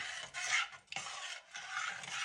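A spoon scrapes around a pot as milk is stirred into grits, in three rasping strokes with short pauses between, close and fairly quiet, no talking.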